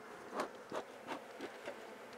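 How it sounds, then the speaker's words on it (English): Honeybees buzzing on a hive frame from a new split, a soft steady hum with several brief louder buzzes as individual bees pass close by. "There are bees on the next frame we're gonna pull out."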